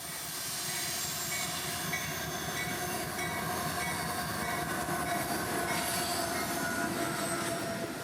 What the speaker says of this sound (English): a solo YN2 AC44 leading a string of Tropicana reefers and Tampa's backhaul of intermodal merchandise